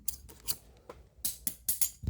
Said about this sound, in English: I need better scissors to cut that.